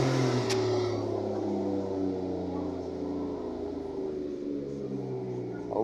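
A 2006 Lincoln MKX engine idles steadily right after a motor and transmission installation, a smooth, even low hum close by with no talk over it.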